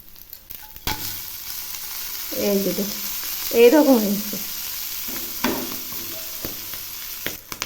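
Small mourola fish fry in hot oil in a pan, with a continuous sizzle and a few bursts of stirring and turning; a person speaks briefly over the cooking.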